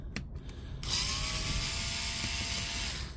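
A power driver unscrews screws to open a silver DeWalt battery pack, a steady high whirring drive after a few quick clicks, close and continuous.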